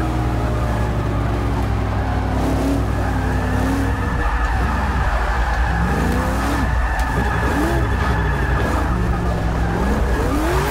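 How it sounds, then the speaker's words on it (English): A 900-horsepower Camaro drifting in Forza Motorsport 6, its engine roaring loud and continuous while the tires squeal and skid in long wavering howls that rise and fall through the slides. "we're here to drift the Camaro"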